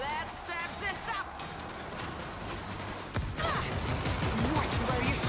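Gunfire in the zombie shooter World War Z, with bursts of shots and impacts running continuously under a busy game mix, getting denser and louder in the second half; a voice talks over it.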